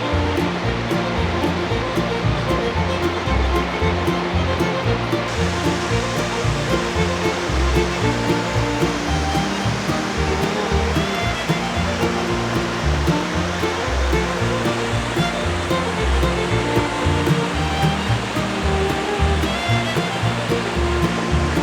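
Woolshed Falls near Beechworth, Victoria, roars as a steady, loud rush of falling water, unbroken and close for the whole stretch.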